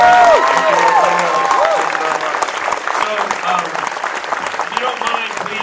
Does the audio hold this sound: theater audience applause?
yes